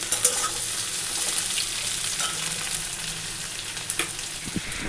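Onion and green chilli sizzle in hot oil tempered with nigella seeds, a steady close crackle with occasional stirring scrapes and taps.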